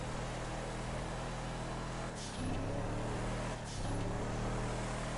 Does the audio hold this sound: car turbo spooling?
yes